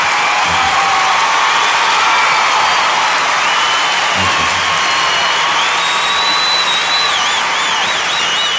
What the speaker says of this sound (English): The whole crowd went crazy.